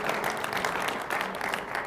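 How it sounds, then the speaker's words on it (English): Audience applause at an awards dinner, a steady wash of clapping from a seated crowd that fills the whole short stretch at moderate loudness. "I'd like you to join me in giving a round of applause to Dr. John Carroll"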